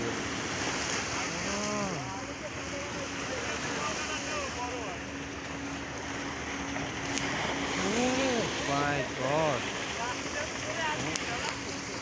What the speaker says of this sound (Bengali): কত ঢেউ ওরে কত দূর উঠছে